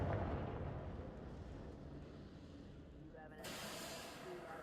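A Confringo fire spell from Hogwarts Legacy erupts as a loud, hissing blast that slowly fades, then flares again with a sharper, brighter burst near the end.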